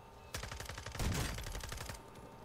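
Sustained gunfire in Warzone 2 as two teams fight, dense rapid automatic bursts overlapping in a loud, continuous exchange with a heavier cluster of shots in the middle.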